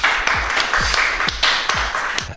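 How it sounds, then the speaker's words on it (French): A small studio audience gives applause during a French radio show segment. The claps are close, steady and fast, and the brief burst fills the room on its own. "applaudissements pour la rubrique d'Aurélie"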